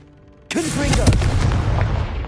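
A Confringo blasting spell erupts in the Hogwarts Legacy game, a sudden booming blast followed by a rumbling, crackling tail, with a brief voice heard near the start.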